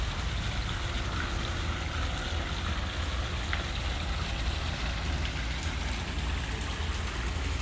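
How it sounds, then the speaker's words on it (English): Small waterfalls spill into a screened pool at a new-construction luxury model home in Florida, a continuous rain-like wash of falling water that holds steady throughout with no voices. "And look at those little waterfalls."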